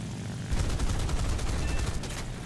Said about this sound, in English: 20mm cannons on the nose